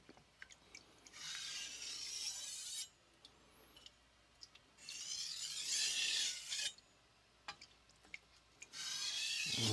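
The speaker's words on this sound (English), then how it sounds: "Now we're doing edge trailing" A Victorinox chef knife edge is trailed under light pressure across a King NEO 800 whetstone, giving four long, close, rasping strokes separated by brief pauses, with faint clicks between passes.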